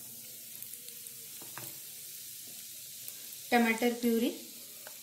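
Spices with tomato puree sizzle softly in hot oil in a pan, a faint steady hiss in the background, with a brief stretch of talk near the end.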